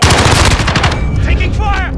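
Rapid automatic gunfire in the Call of Duty Modern Warfare video game, a loud dense burst of close shots for about a second that then gives way to fainter sounds and a brief voice.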